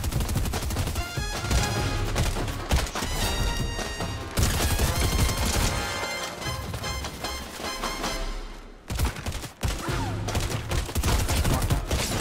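Rapid bursts of tactical DMR gunfire from a Fortnite match crack loudly and continuously, with repeated sharp shots layered over game effects and a brief pause near the end before firing resumes.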